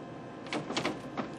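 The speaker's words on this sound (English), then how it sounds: "He'd remove the laptop, close the drawer, which again locks" A drawer in a secure laptop storage rack slides shut and latches, giving a few soft knocks and clicks close by in a quiet room.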